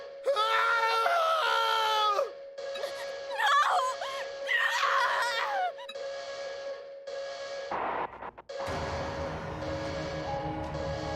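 Several people screaming and wailing in horror in the video game Zanki Zero, loud anguished cries at the start, then fading into dark ambient game sound.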